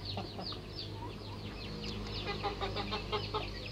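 Chickens in a cramped urban coop, several birds clucking and chattering close by in quick overlapping bursts over a low steady background hum, with no talk.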